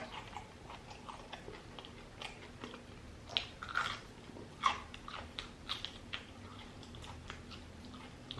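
Crunchy fried chicken wings being chewed close up, with irregular crisp bites and crunches spread across a quiet background, a few louder snaps standing out and no talking.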